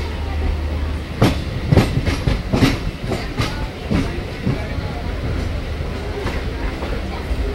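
Kanchan Kanya Express running between Sealdah and Siliguri, with a steady heavy rumble of the moving train and a series of sharp clacks from the wheels over rail joints, and people talking faintly over the noise.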